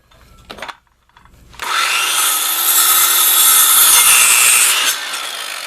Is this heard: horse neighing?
no